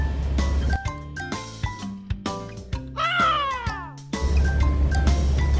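A cat meows repeatedly while toying with a bird it has caught outdoors, several close, drawn-out meows and a rising caterwaul among low background rumble.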